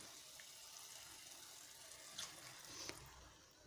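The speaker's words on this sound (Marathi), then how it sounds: "आता मी यात पाणी घालणार आहे" Water pours in a steady, faint stream into a pan of pea curry masala, with a couple of small splashes near the end.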